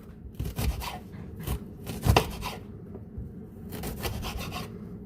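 A knife slices through a red onion on a board, a series of close rasping cuts and scrapes in uneven bursts with one sharper crunch midway.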